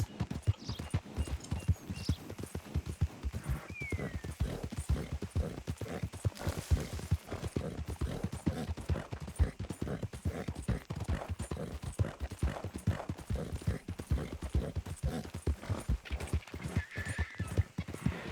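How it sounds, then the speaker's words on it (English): Steady clip-clop of horse hooves at a brisk trot in Red Dead Redemption 2, continuous and fairly close, with a faint whinny partway through over a low background. "that's one nice-looking horse you got there"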